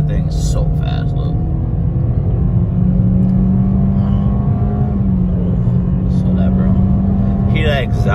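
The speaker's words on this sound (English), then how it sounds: "That exhaust, bro. Dude, this is some good exhaust, man." A Toyota car's exhaust rumbles loudly and continuously while driving fast, a deep steady drone with a slight rise in pitch, with wind and road noise layered over it.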